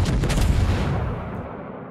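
A battleship in World of Warships fires a full broadside, a loud deep booming blast that rolls and fades over about two seconds.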